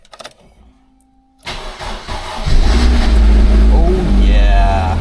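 An MG TF sports car cranks briefly after a few faint clicks and a short electronic tone, then catches and settles into a loud, steady idle close by.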